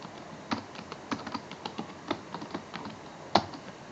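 Commands being typed on a computer keyboard, a quick irregular run of light key clicks with one sharper keystroke near the end, close and alone.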